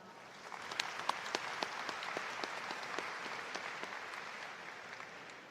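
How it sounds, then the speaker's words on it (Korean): Steady applause from a large audience at a Seoul National University graduation ceremony, many hands clapping together at an even loudness for several seconds as guests are introduced. "한 분씩 소개해 드릴 때마다 박수로 환영해 주시기 바랍니다"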